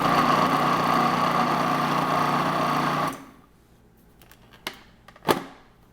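A food processor blending hummus runs as a steady loud whir for about three seconds, then stops, followed by a few sharp scrapes and knocks.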